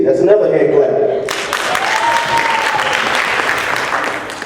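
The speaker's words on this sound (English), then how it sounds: "That's another hand clap." An audience claps for a former Duncanville Panthers football captain, the applause breaking in after a spoken introduction and continuing as a sustained, fairly loud wash of hands.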